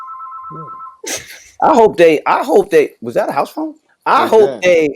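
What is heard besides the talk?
house phone ringing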